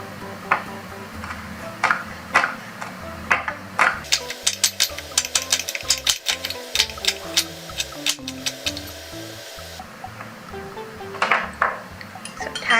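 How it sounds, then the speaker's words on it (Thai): Rapid, irregular knife chops slicing chili peppers on a cutting board, with occasional sharper clicks and a low steady hum underneath. "ต่อมาก็หั่นพริกนะคะ"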